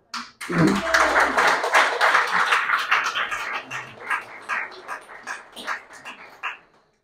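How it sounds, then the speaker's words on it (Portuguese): Applause from a workshop audience in a religious gathering, a loud, close burst of many hands that thins into scattered individual claps and fades out. "Um aplauso ao Pai do Céu."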